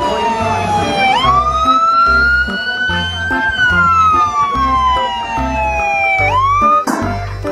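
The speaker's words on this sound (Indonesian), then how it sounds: "Di sini ada mobil ambulans." A toy ambulance wails with a loud electronic siren, its pitch sweeping up and down in long rising and falling cycles, close to the microphone, over a faint regular mechanical pulsing beneath it.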